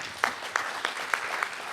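Sparse applause from an audience at an AI training event, a few scattered claps in a thin, fairly quiet burst that is quickly fading.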